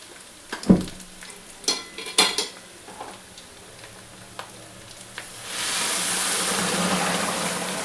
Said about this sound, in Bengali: এবার বন্ধুরা আমি জলটা এতে ঢেলে দিচ্ছি।